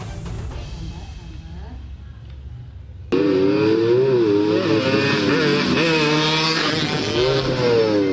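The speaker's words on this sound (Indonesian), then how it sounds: "Sejumlah remaja memacu motor dengan kecepatan tinggi di kompleks perkantoran Pemkab Boyolali" Motorcycles ridden at high speed by teenagers around a government office complex in Boyolali, Indonesia; after a quieter stretch, loud engines snarl and rev continuously, with wavering pitch as the bikes accelerate and pass.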